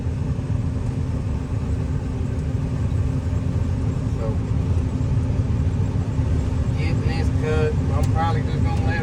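A combine harvester runs steadily through a field during a 2022 harvest, its deep engine rumble constant and close throughout, with wind noise and some faint higher mechanical whine toward the end.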